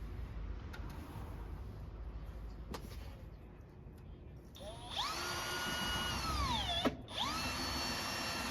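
A cordless power drill whirs during garage door seal installation, a loud high whine that spins up, dips briefly, then spins up again, heard alone after a stretch of quieter background noise.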